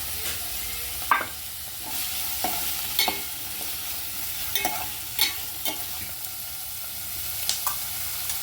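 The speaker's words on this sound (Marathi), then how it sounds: "आपण चणा डाळ टाकूया, मग थोडी शिजेल" Soaked chana dal stir-fries in a hot pan for a moringa leaf bhaji, a soft continuous sizzle broken by regular scraping clicks of a spatula stirring, close and without talk.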